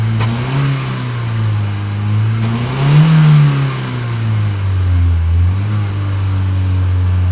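A Mercedes 190 E W201 with an overheating, coolant-losing fault runs close and loud, its mid-pitched engine note swelling through a couple of revs and easing back, with no voices.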